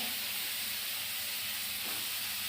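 Onions dropped into hot oil sizzle with a steady, bright hiss of frying that holds evenly throughout, with no talking.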